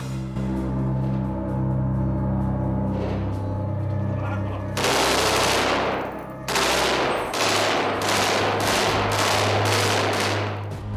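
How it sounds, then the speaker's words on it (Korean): Gunfire in the Gaza Strip, Palestine, erupts as loud, dense bursts of rapid automatic shots after a stretch of low rumble and voices, and the rattling volleys repeat close together. "팔레스타인에선 지금도 총성이 울리고 있다."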